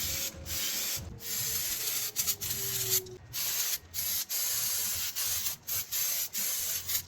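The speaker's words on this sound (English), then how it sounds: "Clean the brake drum and shoe surface to remove any oil." Spraying cleaner and wiping the brake drum and shoe surface of a Toyota Wish rear drum brake, a close hissing spray broken by rapid short pauses, with rubbing strokes repeating in quick bursts.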